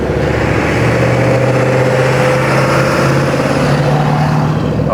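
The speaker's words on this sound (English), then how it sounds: "car sound like a semi truck." Ford Mustang GT engine running loud and steady at idle, a deep continuous rumble with a slight uneven pulse, close and constant for the whole five seconds with no other sounds.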